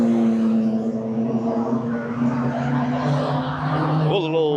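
Historic race car engines drone steadily nearby with a rising whine at the end, as vehicles pass on the Zandvoort circuit; crowd noise and voices sit underneath.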